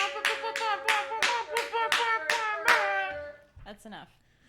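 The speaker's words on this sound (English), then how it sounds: "Let's give a round of applause for the Royal" About eight sharp, evenly spaced hand claps ring out close by, followed by a couple of softer, quicker claps as it trails off.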